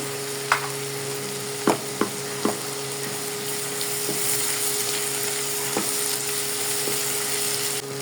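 Spinach and ginger fry in a pan with a constant low sizzle broken by a few sharp utensil knocks and clicks, near and alone.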